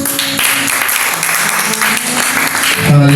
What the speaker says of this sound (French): Est-ce que vous acclamez Jésus pour vous?